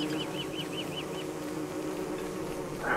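Bees buzz in the Don't Starve video game, a steady, close droning swarm with a run of quick warbling chirps near the start and no talk over it.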